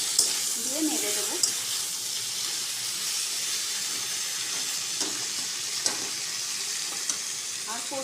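Vegetables with ginger paste sizzling and frying in a pan while being stirred, a steady close hiss with occasional scraping clicks of the spoon and a few faint background noises.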